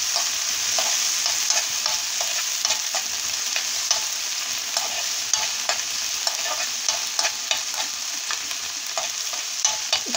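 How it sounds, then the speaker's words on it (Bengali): Dried red chillies frying with chopped onion and garlic in a pan for village-style jute leaf bhaji, a continuous bright sizzle punctuated by regular scraping stirs of a spatula, close and steady with no talk. "শুকনো মরিচটা দিয়ে দিব। এটা আমি ভালো করে ভেজে নেব।"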